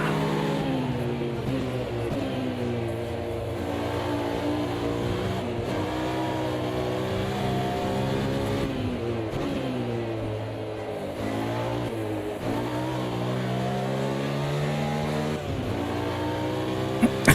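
Race car engine in Automobilista 2 with traction control and ABS switched off, droning steadily at high revs for the whole stretch, pitch rising and dipping through gear changes, loud and close with no talk over it.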